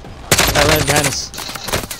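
Rapid automatic gunfire crackles in a dense, loud burst in the Warzone video game on the Caldera map, close and continuous for about a second before tapering into scattered shots.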